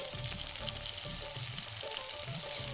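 Ginger garlic paste sizzles in hot oil with softened green chillies for paneer bhurji, a steady close crackle and hiss with occasional stirring.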